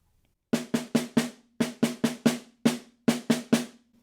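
Snare drum played at mezzo forte through an etude measure: eleven crisp, evenly weighted strokes in quick groups separated by brief rests, each a sharp rattling hit with short decay, close and alone.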